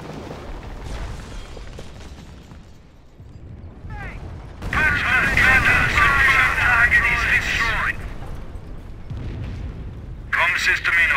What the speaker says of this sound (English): Incendiary attack is on its way. The whole area will be in flames